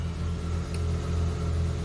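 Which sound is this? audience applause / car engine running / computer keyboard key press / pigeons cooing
car engine running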